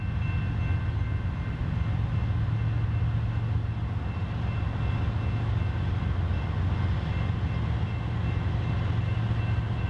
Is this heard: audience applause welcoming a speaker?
no